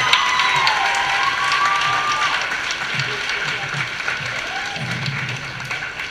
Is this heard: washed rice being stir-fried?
no